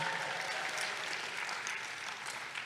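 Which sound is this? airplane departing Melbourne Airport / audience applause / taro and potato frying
audience applause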